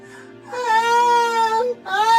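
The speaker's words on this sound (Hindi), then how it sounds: "जिसे देखकर दोनों बच्चे रोने लगते हैं।" Children crying in a village setting, a loud sustained wailing sob that breaks off briefly and then starts again, close and alone.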